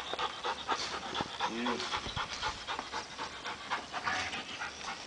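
A dog pants rapidly and steadily at close range during a training session with a runner or herding practice, the breathing continuous under a man's occasional speech and outdoor background noise.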